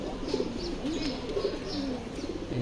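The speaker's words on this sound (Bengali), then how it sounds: "এগুলো ইন্ডিয়ান ব্লাডের কবুতর" Indian-blood pigeons coo steadily in low, rolling calls over a continuous background hiss, the cooing repeating throughout at moderate loudness.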